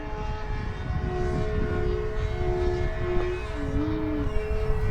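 A Flex Innovations Mamba 10 G2 RC aerobatic airplane's motor drones steadily at a distance, its whining pitch briefly rising and dipping as it maneuvers.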